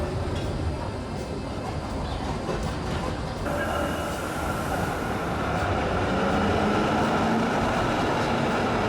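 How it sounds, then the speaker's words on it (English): A multi-articulated tram at Basel SBB station rumbles close by in a steady, loud roar of wheels and motors, with a slight shift in tone partway through. "We arrived in Basel, the SBB station, to a magnificent multi-bendy tram"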